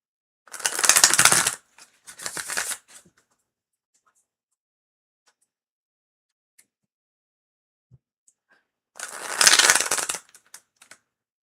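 Tarot cards being shuffled, heard as two quick, crisp riffling bursts near the start and another longer burst near the end, with near silence between them and no talk.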